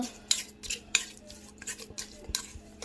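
A spoon stirs coconut rice with ground spice in a pot, giving several close metallic scrapes and clinks in an uneven rhythm.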